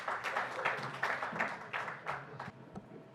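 Audience applause at an industry panel in Morocco, a few seconds of moderate, somewhat distant clapping in rhythmic bursts that fade toward the end.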